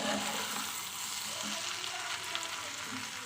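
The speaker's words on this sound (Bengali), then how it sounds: "মাছের তেল ডিম একসঙ্গে ছিল, সেটা আমি ভাজা করে নিচ্ছি।" Fish oil and eggs sizzling in a small kadai, a loud continuous frying hiss with faint scraping of stirring, close up and steady throughout, no voices.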